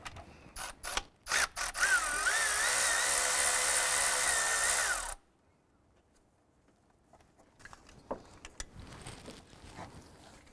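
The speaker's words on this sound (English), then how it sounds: "Using an 8mm socket, we're going to go ahead and loosen and remove that nut." An 8mm socket on a ratchet loosens and removes a harness nut on a 2011-2018 Volkswagen Jetta, with quick close clicks followed by a sustained whirring burst from a power tool, then quiet handling noises.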